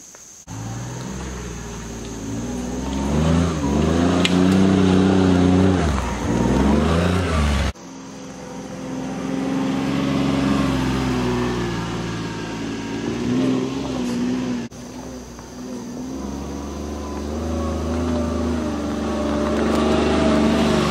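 A UTV engine drones loudly and steadily while driving a hillside trail, its revs rising and falling continuously, with abrupt cuts between segments.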